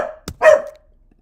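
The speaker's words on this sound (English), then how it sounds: "That's my dog screaming." A dog at home lets out a couple of short, loud barks close by, the second longer and more drawn-out, alone without talk.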